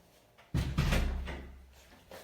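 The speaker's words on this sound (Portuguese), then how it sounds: "fechei a porta" A room door in a small home studio is pushed shut with a single solid thud, followed by a brief resonant decay, close by with no speech.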